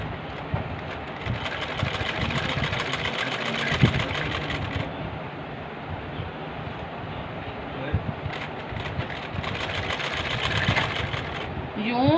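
Sewing machine stitching kurti fabric along a buckram edge, running in rapid bursts with brief pauses, under a voice speaking throughout.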